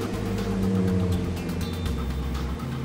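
A car engine idling steadily just after starting, with tire chains fitted and winter traction mode selected, a loud continuous low rumble close by with no talk.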